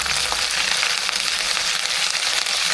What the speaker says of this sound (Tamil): பாருங்க, வடகம் நல்லா பொரிச்சு வருது